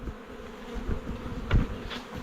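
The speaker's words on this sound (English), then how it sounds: "Got a little honeybee trying to turn the GoPro off." Honeybees buzzing close by around a hive box, a dense continuous hum with one bee swelling louder as it passes near, plus a couple of faint knocks.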